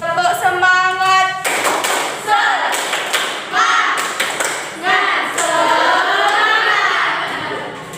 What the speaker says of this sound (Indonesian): tepuk tangan yang semangat, yuk dipimpin oleh temannya